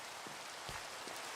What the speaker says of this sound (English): This is weird, rain.